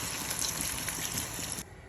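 Water poured into a cooking pot for misua soup with shrimp, a steady splashing gush close to the mic that stops abruptly near the end.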